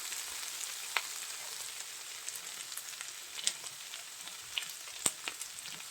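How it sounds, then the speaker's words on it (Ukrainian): Wild mushrooms and garlic fry in a pan with a steady, bright sizzle, broken by a few sharp pops and crackles; the sound stays close and fairly quiet, with no voices. "як гарно підсмажуються"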